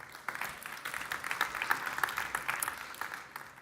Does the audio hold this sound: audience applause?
yes